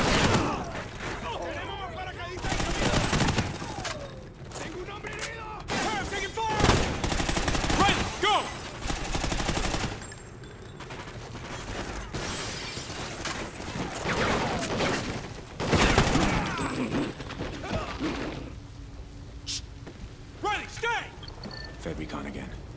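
Bursts of gunfire in the Call of Duty Ghosts level Brave New World, repeated volleys and scattered shots spread across the scene, mixed with voices talking and radio chatter throughout.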